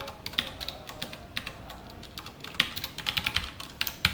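Close, quiet typing of code on a computer keyboard, irregular bursts of light key clicks with short gaps, clustering into quicker runs toward the end.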